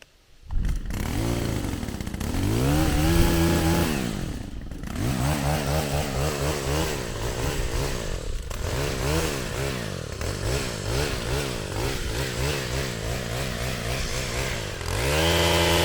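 A small chainsaw trims Christmas trees on a tree farm, its two-stroke engine revving up sharply, easing briefly, then holding a steady loud buzz close by for the rest of the stretch before surging again at the end.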